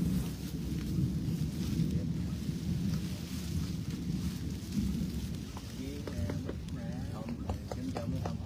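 Steady rain with low rumbling thunder fills a durian orchard in southern Vietnam, a dense continuous wash with a deep rolling undertone throughout.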